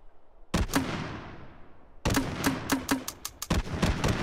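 Guns fire in the VR game Hot Dogs, Horseshoes & Hand Grenades: one sharp close shot, a pause, then a fast run of several reports with short echoing tails, the last one more isolated.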